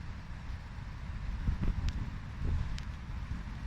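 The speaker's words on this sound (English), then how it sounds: "Wind pushing in here." Wind pushing across a corner of a carp fishing lake, a steady low roar with gentle buffeting gusts around the microphone, swelling slightly in the middle and toward the end.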